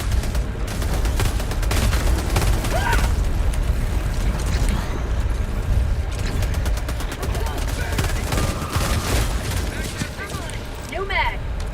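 Relentless loud gunfire from Helldivers 2, machine-gun bursts layered over booming explosions and rumble, with excited voices talking over the constant barrage.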